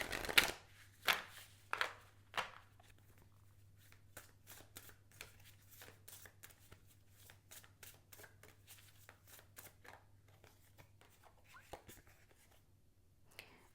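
Oracle cards are shuffled for a tarot reading in a long run of crisp riffles and flicks up close, louder at the start and then steady, over a low, constant hum.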